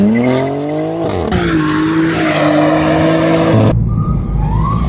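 A race-prepared BMW M2 with a heavily tuned engine roars loudly and up close, its revs climbing in steady pulls with tires squealing between shifts, then dropping sharply into a low idle rumble.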